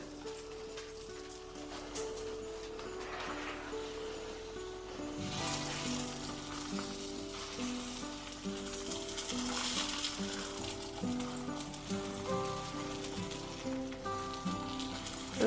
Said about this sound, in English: So I'm just heating up my tortillas.